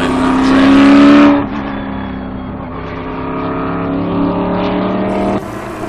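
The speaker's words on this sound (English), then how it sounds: "we have a Daytona prototype out there, a Ford Riley, number 60" A Ford Riley Daytona prototype race car, number 60, roars loudly at close range on track during a Grand-Am test day, its engine note dropping sharply as it passes and then droning steadily into the distance.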